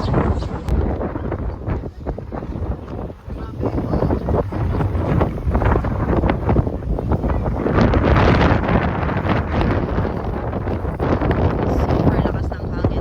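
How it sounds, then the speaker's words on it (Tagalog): Strong wind buffets the microphone outdoors at Ngong Ping Village in Hong Kong, a constant loud rumbling roar that swells and gusts for the whole stretch, with muffled voices faintly underneath. "Super lakas ng hangin naman."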